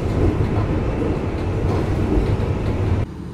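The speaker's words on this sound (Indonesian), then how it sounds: "ini dia lokomotifnya CC206 dengan stiker tematik Lebaran 2025 Tuti and Friend" Rumbling CC206 diesel locomotive passenger train on a single-track line, a steady loud rolling roar with faint clatter throughout, cutting off abruptly near the end.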